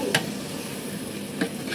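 Meat stirred in a frying pan while cooking Sunday biryani, a steady close sizzle with two brief scraping stirs of a spoon, no talking.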